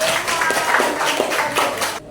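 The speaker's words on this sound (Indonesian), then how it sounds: "tepuk tangan buat Evan" Students in an Indonesian classroom clap for a classmate, a short burst of lively, slightly uneven hand claps close by that stops abruptly after about two seconds.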